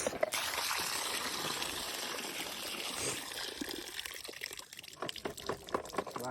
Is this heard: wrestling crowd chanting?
no